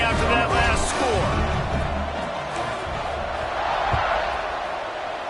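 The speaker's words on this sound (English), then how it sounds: "this crowd is buzzing after that last score" A stadium crowd in a college football video game's dynasty mode keeps up a steady, loud buzzing roar for the whole stretch, with no clear breaks.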